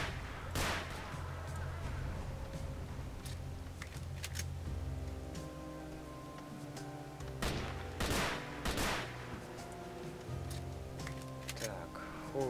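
Gunfire in STALKER: Shadow of Chernobyl, scattered single shots and short bursts cracking out over a steady low game hum, some sharp and close, others farther off, spread unevenly across the stretch.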